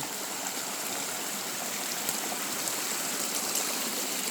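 A forest stream in Nan province, Thailand, rushes and splashes in a steady, full, continuous wash of flowing water that stays even throughout, with no voices.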